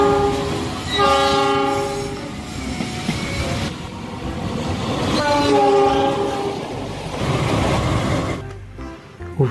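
A CC-01 locomotive sounds its horn in repeated loud, sustained blasts over the rumble and clatter of rolling rail cars, close by and with no talk.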